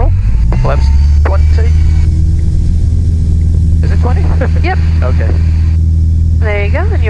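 Small training airplane engine roaring steadily at full throttle during stall recovery on a first flight with an instructor, a loud continuous drone under voices talking over the intercom.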